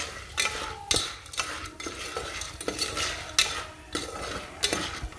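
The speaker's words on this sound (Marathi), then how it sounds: "हळद आणि मीठ टाकल्यानंतर अशा प्रकारे मिक्स करून घ्यायचं" Popcorn kernels are stirred in oil with turmeric and salt, giving repeated close metallic scrapes of a spoon against the pan in an uneven rhythm over a light sizzle.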